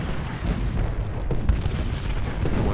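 Massed cannon artillery fire in the Ultimate General: Gettysburg strategy game, a dense continuous rumble of booming Civil War guns with overlapping blasts, steady and loud with no talking.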